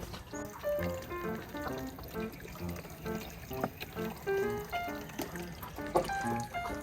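Water pours into a chicken waterer in a backyard, a close, bubbling, gurgling stream of fairly quiet filling sounds with shifting pitch as the container fills.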